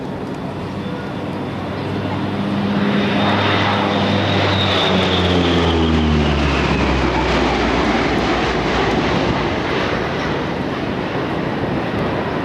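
A propeller airplane makes its pass at the 1995 Atsugi air show, its engine drone rising loudly as it approaches, then sweeping by with a falling pitch and fading slightly while the roar lingers.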